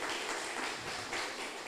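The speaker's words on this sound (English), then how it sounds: "Let's have a round of applause for Noah again," Applause from an audience at an inter-secondary schools debating competition, a steady patter of clapping filling the short stretch at moderate volume with no voices.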